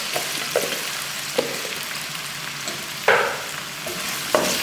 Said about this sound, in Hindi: तो अच्छी तरह हम फ्राई करेंगे आलू को